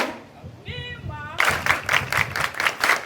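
An audience at an International Women's Day event claps in a rhythmic burst of about six strong, evenly spaced beats after a brief quiet stretch with a short tonal sound.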